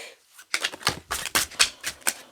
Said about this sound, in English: let's shuffle the Intuit deck.